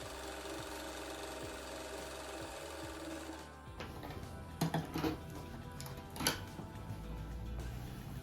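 A sewing machine runs through a patchwork seam, steady mechanical stitching that pauses midway, then resumes amid handling knocks and clatter of the fabric and machine, close and fairly quiet.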